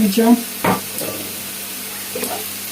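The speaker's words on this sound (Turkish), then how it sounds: "Karıştırıyoruz ve patlıcanları kavuruyoruz." Eggplant sautéing in a pan, a soft steady sizzle with a few short scraping stirs and knocks of a utensil, fairly quiet, with no one talking.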